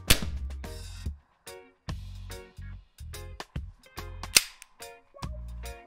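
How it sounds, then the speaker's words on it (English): A Glock 19 airsoft blowback pistol fires in a garden, about ten sharp snapping shots in an uneven rhythm, each with a short metallic slide clack, loud and close. "The blowback adds a bit of kick and it served me well for some fun shooting in the garden."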